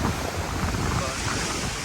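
Sea surf washing up on a beach where high water has reached a fire pit, a steady broadband wash of waves roaring continuously with wind buffeting the microphone.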